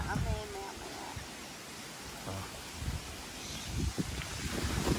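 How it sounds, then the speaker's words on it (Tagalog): Strong wind gusts at a mountain campsite in the Philippine countryside, a steady broadband roar with buffeting across the microphone, rustling underneath, and faint voices and a brief whistle-like tone in the background. "Lakas ng hangin, oh."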